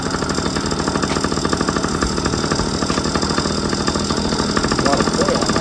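A cheap 1997 Yamaha PW50 two-stroke shaft-drive dirt bike engine runs steadily at high revs with a buzzy, rattling tone, loud and close, holding a constant drone throughout.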